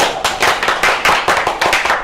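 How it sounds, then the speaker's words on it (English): A comedy show audience claps for itself, a dense, loud, close patter of many hands with uneven rhythmic bursts and no talk over it. "Clap for yourself."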